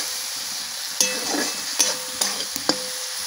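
Masala with tomatoes being stirred and fried in a pan, a steady soft sizzle underneath with several distinct clacks of the spatula scraping the pan at irregular intervals, close and clear, with no talking.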